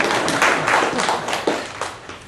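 Comedy club audience at a live improv show clapping briefly, a dense burst of hand claps that loudly fills the room and tapers off within a couple of seconds.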